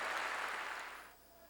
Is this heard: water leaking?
no